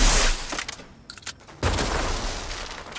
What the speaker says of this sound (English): I'm gonna do a flare.